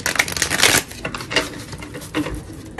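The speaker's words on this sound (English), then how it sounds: "I'm gonna shuffle one more time just so I can get grounded with this reading" A deck of tarot cards being shuffled by hand, close and fairly loud, with a dense riffling burst at the start followed by softer scattered flicks and taps, no talk.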